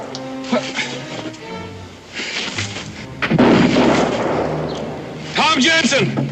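Gunfire in an old frontier TV drama, several loud shots and booms mixed with shouting voices and dramatic background.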